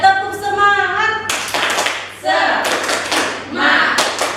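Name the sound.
class clapping the tepuk semangat clap routine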